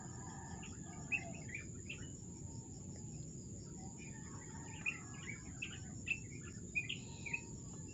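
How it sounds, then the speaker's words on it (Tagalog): Morning birdsong at a rural campsite: scattered high chirps and short calls ring out from a distance over a constant bed of insect trilling and low outdoor rumble. "Ayan, narinig nyo yung mga ibong umaawit."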